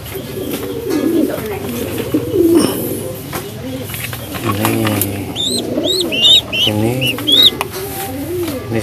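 Homing pigeons in a breeding loft coo repeatedly close by, deep throaty rolling calls in overlapping bursts, with some higher chirps and rustling.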